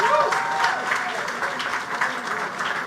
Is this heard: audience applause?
yes